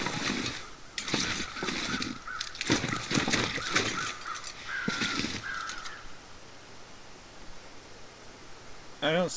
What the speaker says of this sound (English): I don't see any crows, but I'm sure can hear them.